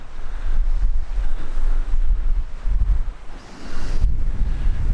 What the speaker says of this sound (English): Very windy, cloudy day today, so not very pleasant.